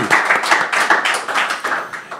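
Audience applause in a televised town-affairs studio, a close, loud patter of hand claps with distinct individual slaps running steadily throughout.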